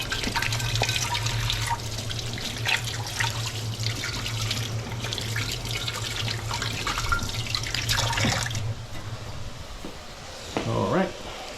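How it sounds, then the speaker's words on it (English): Tap water runs steadily into a kitchen sink as hands are washed, a continuous splashing stream that stops abruptly near the end, with brief voice sounds mixed in. "Wash my hands quick."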